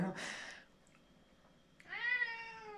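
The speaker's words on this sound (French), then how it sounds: "Il fait ce miaulement de guerre" A cat gives a harsh, drawn-out yowl at the start, then quiet, then a second long rising-and-falling meow near the end.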